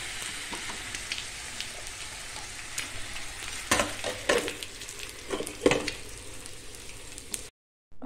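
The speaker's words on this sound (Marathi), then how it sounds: "आता या भाजीला आपण शिजवून घेऊया." Patri, a wild monsoon leafy vegetable, cooks in a pan with a continuous close sizzle and frying crackle, and stirring scrapes punctuate it before the sound cuts off abruptly at the end.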